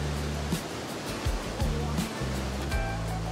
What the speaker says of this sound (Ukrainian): з якою потужністю потік пробивається крізь скелі та спадає вниз